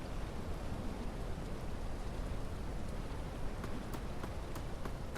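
Steady heavy rain falling in the video game Drug Dealer Simulator 2, a dense constant hiss throughout with a few faint sharp ticks, no talking.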